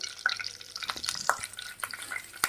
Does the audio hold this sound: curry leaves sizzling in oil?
yes